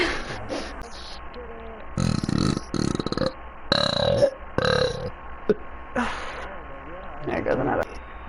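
A woman lets out several loud, drawn-out burps in bursts over gaming-session background noise, with a few short spoken remarks between them.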